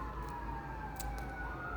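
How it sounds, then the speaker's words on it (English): A siren wails faintly in the distance, its tone slowly sliding over a low rumble of traffic. "I hear sirens and stuff"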